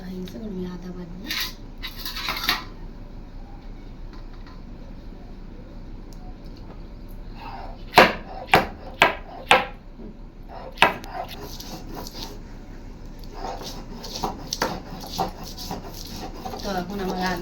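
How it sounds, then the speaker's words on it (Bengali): Ginger being ground on a grinding stone while chicken is cooked: bursts of dry, rasping scrapes, with a quick run of sharp rhythmic strokes near the middle and more scraping toward the end, under intermittent talking. "জিরা বাটা হয়ে গেছে, আমি আদা বাটবো।"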